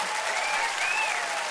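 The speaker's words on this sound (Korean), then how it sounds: "박수!" Brief, steady audience applause at a family concert, a dense wash of clapping with a faint high tone riding over it.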